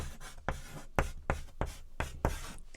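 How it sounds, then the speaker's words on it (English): Pen or marker strokes scratch across a surface in short, regular bursts about twice a second, close and fairly clear, with quiet gaps between strokes and no talking. "I'm gonna write it here"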